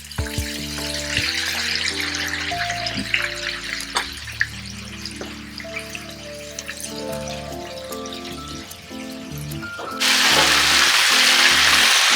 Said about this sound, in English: we're frying this until the chicken is golden brown.